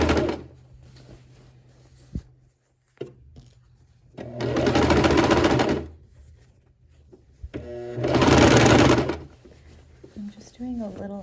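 A sewing machine stitches a shirt seam at a 5/8 inch allowance in two bursts of steady, close whirring, each about a second and a half, with quiet handling thumps and a brief voice between them.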